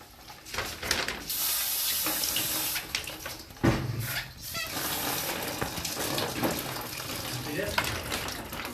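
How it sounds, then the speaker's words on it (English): Water streams steadily down from equipment into a bucket below during an EPD Spark-2 test of beryl-bearing material, a continuous close splashing rush with a few clunks, under faint background voices. "There is a bucket underneath, so all the water streams down in that bucket."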